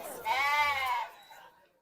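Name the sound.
goat bleating at livestock market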